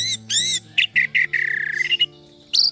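An orange-headed thrush calls and sings in bright, loud phrases: repeated rising whistles, quick chirps and a buzzy trill, close by, with short pauses between bursts.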